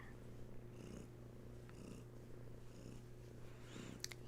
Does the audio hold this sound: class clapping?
no